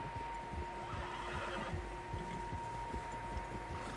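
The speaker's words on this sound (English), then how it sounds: "Horses, quite a few of them." Horses whinny and neigh close by in the video game Red Dead Redemption 2, with a faint clip-clop of hooves beneath a steady tonal hum.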